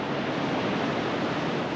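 Rough, rapid river water churns at a canoe race rapid in Norway's Arctic during the 1980s, a steady, loud, close roar of rushing water with no other sounds.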